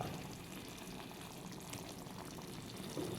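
Hot oil spooned onto cooked avial in a pan gives a soft, steady sizzle and crackle, quiet and close, with no talking.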